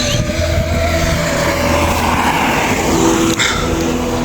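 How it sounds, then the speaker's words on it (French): Cars rush past very close on a narrow roadside near Brest while someone walks along the edge, a loud continuous traffic roar with a sharp passing swell near the end. "là les voitures elles te frôlent"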